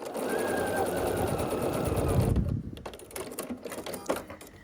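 A sewing machine stitches a corner-to-corner diagonal seam across a turquoise quilt block's background square. A close, steady, rapid whir runs for about two seconds, then stops, leaving quieter handling clicks and rustles.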